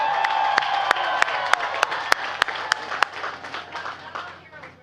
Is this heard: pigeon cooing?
no